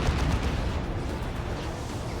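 Heavy Eldar D-cannon artillery firing in Dawn of War 2: a continuous rumbling, booming wash of distant blasts and impacts that stays loud and dense throughout, with no voices.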